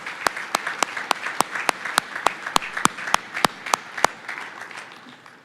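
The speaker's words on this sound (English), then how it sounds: "I'd like to give them a round of applause." At a Veterans Day celebration, an audience applauds the choir, color guard and scouts, with a crowd's clapping underneath and one loud, close clapper beating out a regular rhythm on top before it fades.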